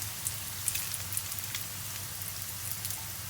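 Quail egg wontons frying in hot oil, a steady dense crackle and sizzle with scattered pops running evenly throughout, close and moderately loud, with no voices.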